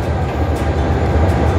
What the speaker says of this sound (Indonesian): Aku mau naik kereta api Fajar Utama Solo ke Solo Balapan.